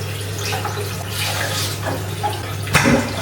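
Foam headphone ear pads soaked in water, with a steady running, splashing wash like a filling basin or tap, close and continuous, with a brief louder slosh near the end.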